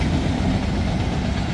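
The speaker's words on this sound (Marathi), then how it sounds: "बरोबर रेल्वे सापडली आपल्याला, 5:45ची रेल्वे" A 5:45 passenger train rolls past on the railway, a loud, close, continuous low rumble with rhythmic wheel clatter filling the whole stretch.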